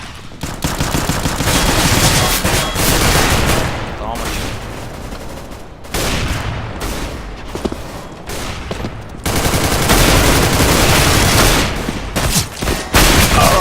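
Rapid gunfire rattles through an online match of Counter-Strike GO, with loud sustained automatic bursts broken by short gaps and a few sharp shots, while a player speaks briefly.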